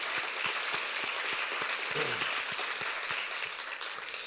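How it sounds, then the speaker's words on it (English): Audience applause at an arts and economic prosperity presentation in St. Louis, a steady dense clapping from a room of people that carries through the whole stretch, with a few faint murmurs underneath. "please give him a round of applause for that"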